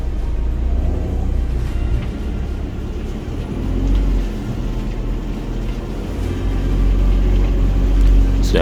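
An Isuzu MU-X 4x4 in rough terrain mode pushes along an off-road track, its engine droning and revving steadily under throttle, loud and close throughout, swelling near the end.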